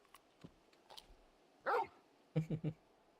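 A big dog in the video game Final Fantasy XVI gives a few short barks and yips, one brief bark followed by a quick burst of three, fairly close against a quiet background.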